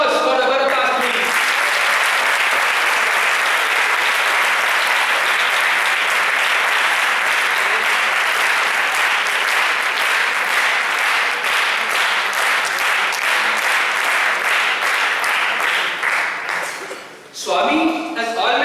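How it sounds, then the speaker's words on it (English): A large audience roars with applause after an orchestra competition performance at an institute, sustained loud clapping that fades out near the end, followed by a brief voice. "a roaring applause for the Bharathas, please."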